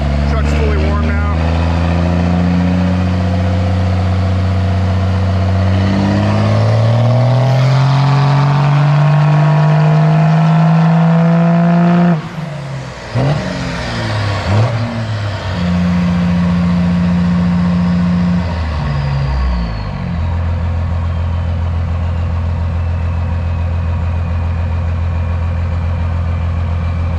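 A truck engine, fully warmed up, revs hard through an acceleration pull with a rising, loud roar, drops off, surges once more, then settles into a steady, deep idle.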